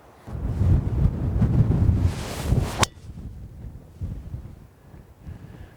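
Strong wind buffets the microphone on an open links golf course, a heavy roaring rumble for nearly three seconds that cuts off abruptly, then lighter gusts rise and fall.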